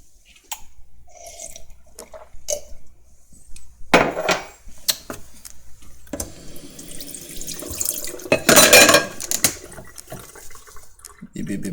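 Water running from a kitchen tap while cooking, splashing and gushing in uneven bursts with clinks and knocks of handling in between, fairly close and moderately loud.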